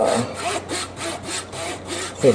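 A Japanese 24 TPI pull saw cuts through wood in quick, evenly spaced rasping strokes, close and crisp, about eight pulls in a couple of seconds.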